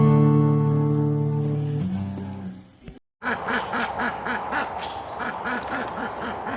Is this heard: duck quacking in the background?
yes